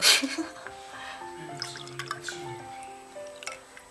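Mint ginger lemonade being poured makes soft dripping and trickling sounds close by, with small splashes and a faint ringing tone from the glass, quiet and alone.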